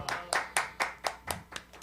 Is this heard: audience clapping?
yes